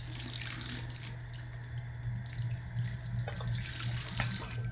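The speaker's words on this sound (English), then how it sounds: "just running them through the water one more time to make sure I got them really good and rinsed" Water runs steadily from a tap as hair extensions are rinsed beneath it, a constant close splashing with small bursts and shifts in the flow.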